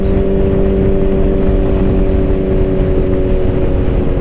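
A Suzuki Hayabusa motorcycle engine runs loud and steady up close after sitting for weeks in winter, a constant low rumble with a sustained drone and no clear rev peaks, and no one talks.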